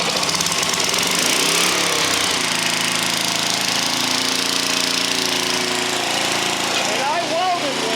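A flathead engine rumbles steadily at close range, a loud continuous mechanical drone with some rattling, holding a constant idle throughout.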